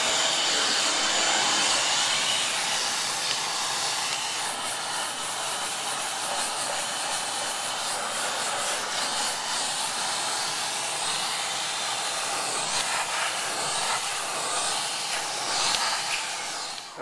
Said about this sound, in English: I'll vacuum it off with my handy dandy shop vacuum and a brush attachment.